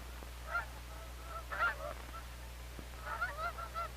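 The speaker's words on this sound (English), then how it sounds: "In May, we hear a new sound in our land. The snow goose has come back to nest." Snow geese honking at nesting grounds on Baffin Island, several nasal calls in scattered bursts at mid distance over a steady low hum, with a cluster of honks near the end.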